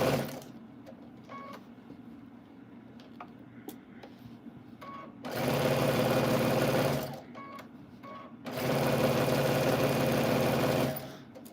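Sewing machine stitching, two sustained loud runs of steady mechanical whirring, each about two seconds long, with quieter pauses and faint music between them.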